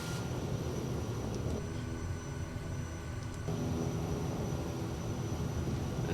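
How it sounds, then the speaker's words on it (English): Daher Kodiak 100 with tundra tyres taxiing in Microsoft Flight Simulator: a steady, broad engine and propeller drone that holds evenly throughout, with no voices. "We're just gonna go ahead and taxi out here now."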